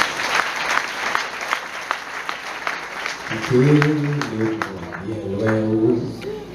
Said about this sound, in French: Vous pouvez même encore applaudir la parole.